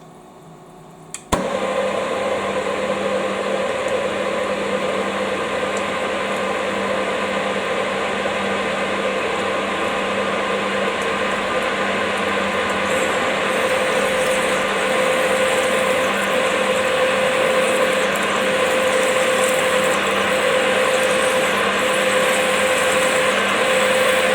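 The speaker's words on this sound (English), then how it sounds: "I've got an old tungsten carbide cutter. Let's see how that goes to cut down 28mm." An old tungsten carbide cutter machining down to 28 mm depth, likely on a guided tap wrench part, starting abruptly after a second of quiet and then running as a steady, continuous mechanical whir with a sustained tone, loud and alone.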